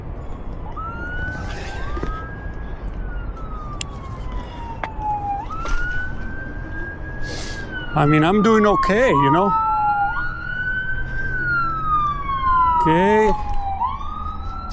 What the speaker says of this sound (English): sirens in the distance